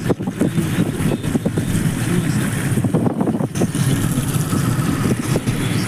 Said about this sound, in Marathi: पाऊस सुरू आहे जोरात.